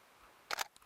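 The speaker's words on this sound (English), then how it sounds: "trigger the shutter" Digital SLR camera shutter fires once during mountain landscape shooting, a quick crisp double click of mirror and shutter followed by a faint mechanical tick, close and clear in a quiet outdoor setting.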